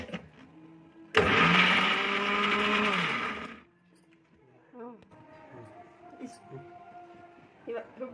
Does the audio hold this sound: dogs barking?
no